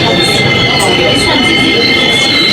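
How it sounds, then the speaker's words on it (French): Inside a Paris RER commuter train, a loud, dense rumble of wheels and carriage noise fills the space, with a steady metallic whine and faint scattered crowd sounds. "Ok, je suis dans le RER"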